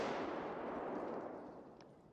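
A grenade blast in the shooter game Escape From Tarkov, heard as a broad, rumbling roar that fades steadily away over about two seconds, fairly quiet overall and without speech.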